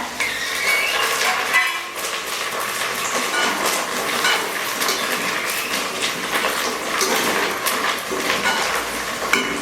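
Garlic and curry leaves with green chillies sizzling in hot oil in a pan while cooking tomato thokku at home, a loud continuous crackling hiss throughout.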